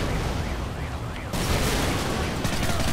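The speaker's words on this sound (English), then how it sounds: "Let's throw a grenade." A grenade blast in Modern Warfare 3 hits with a sudden loud boom that cuts into dense, roaring noise, followed by sustained rumbling and debris-like crackle close by.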